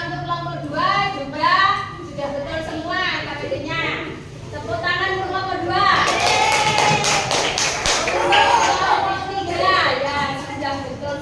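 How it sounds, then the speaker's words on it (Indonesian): Classroom applause breaks out after a child's spoken turn, a dense burst of many small hands clapping for several seconds at close range, with children's voices before and around it. "Tepuk tangan untuk nomor 2"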